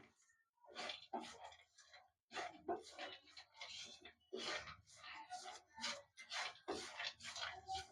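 A spoon stirs a spiced peanut dish (singdana sevdo) with sugar and chili as it cooks, giving repeated close scraping and rubbing strokes in a steady rhythm that carry through most of the stretch with short pauses.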